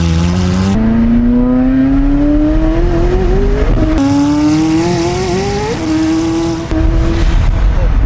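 A McLaren supercar driven hard, its engine loud and close, rising in pitch through each gear, with sharp drops at the shifts and a tire squeal.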